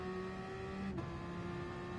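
A car engine with five exhaust pipes in the Gran Turismo video game holds a steady, even drone for about two seconds, with no voices.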